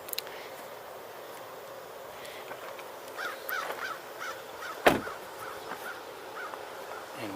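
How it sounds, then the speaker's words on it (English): An American crow calls in Sapsucker Woods, giving a few harsh caws at moderate distance, including one louder, sharper call, over quiet outdoor background noise. "Oh, just heard an American crow. Maybe two of them."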